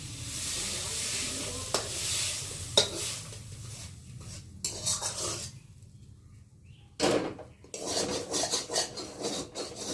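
Soybean chunks go into a hot kadai and fry with a continuous sizzle, while a spatula scrapes and rasps repeatedly against the pan bottom in uneven strokes. Sharp clacks mark the start of each scrape.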